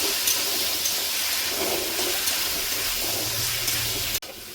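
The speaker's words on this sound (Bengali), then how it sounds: "একটু সামান্য লঙ্কার গুঁড়ো। সুন্দর করে এটা ভেজে নেব।" Vegetables with turmeric and a little chili powder sizzle and hiss steadily in hot oil in a home kitchen, a continuous broadband frying crackle with a brief drop near the end.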